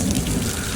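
Heavy rain pours down outdoors in a dense, loud hiss with a low rumbling underneath, a short unbroken burst of storm noise with no voices.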